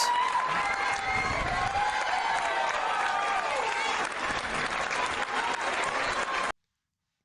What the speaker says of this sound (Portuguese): As crianças estão gritando, muitos aplausos.